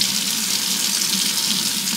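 Tap water runs steadily from a faucet into a sink while an item is rinsed, a close, continuous hiss and splash with no talking.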